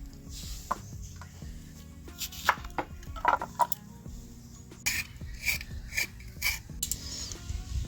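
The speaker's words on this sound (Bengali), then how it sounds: "এখানে আমরা এবার আলুটাকে কেটে নিচ্ছি" A potato cut with a knife in a home kitchen while making chicken stew: close, irregular scraping and chopping strokes on a board, several sharp taps in quick succession, no talking.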